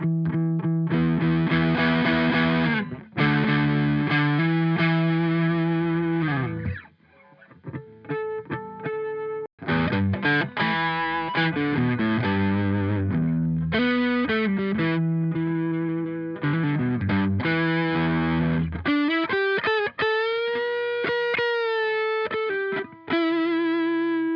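An electric guitar plays through a Behringer Vintage Tube Overdrive pedal, moving from near-clean tones into gritty, sustained distorted chords and single-note lines, loud and close, with brief pauses between phrases.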